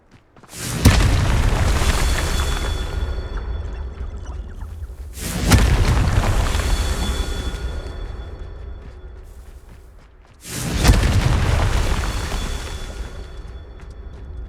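Three heavy Confringo blasting-spell explosions from Hogwarts Legacy land a few seconds apart, each a sharp, close boom followed by a long rumbling decay.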